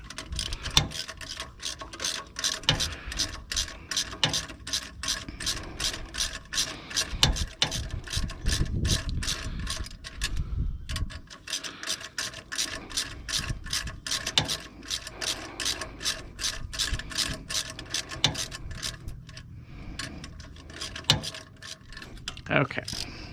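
A hand ratchet loosens a bolt on the turbocharger of a 2007 Freightliner Columbia truck, making long runs of rapid, close metallic clicks with short pauses between strokes.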